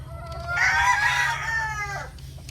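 A Spark Grey gamecock rooster crows loudly and close by in one drawn-out call, over a low steady background hum.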